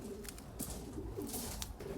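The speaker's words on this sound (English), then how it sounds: "we're just going to basket up some of our pigeons" Pigeons in a loft give soft, low cooing calls, several overlapping and fairly quiet, with light rustling and faint sharper sounds scattered through.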